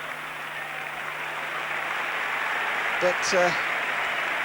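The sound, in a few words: crowd applause at Old Trafford football match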